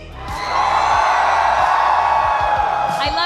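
A large crowd at the Snapdragon Mobile Challenge Finals, a Mobile Legends: Bang Bang esports event in a shopping mall, screams and cheers in a loud, sustained roar with whoops rising above it.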